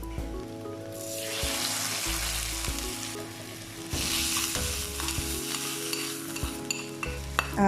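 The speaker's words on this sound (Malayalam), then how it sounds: "ഉള്ളിയും കടുകുമൊക്കെ എല്ലാം നന്നായിട്ട് മുരിഞ്ഞ് വന്നിട്ടുണ്ട്. ഇനി നമുക്കിത് ബീഫിലേക്ക് ചേർത്ത് കൊടുക്കാം" Mustard seeds and onion sizzle loudly in oil in a pan as they are tipped into beef and stirred, bursts of hissing rising and fading with scraping clatter.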